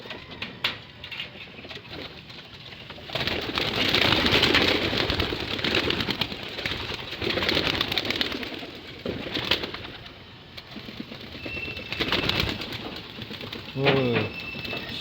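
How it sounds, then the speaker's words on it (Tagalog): Pigeons coo softly in a backyard loft in the morning, their low murmurs mixed with the rustle and shuffle of birds and a steady ambient background, with a brief louder call near the end. "Gigigil na yung mga ibon natin."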